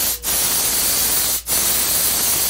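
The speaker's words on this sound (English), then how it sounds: "I'm spraying it at about 50 pounds pressure with my compressor." Compressor-fed spray gun at about 50 psi spraying thinned amber finish onto a hand-carved wooden scuba sign, a loud steady hiss broken by two brief trigger releases.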